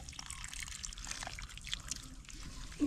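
Water trickles steadily in a thin, continuous stream, with a brief louder splash right at the end.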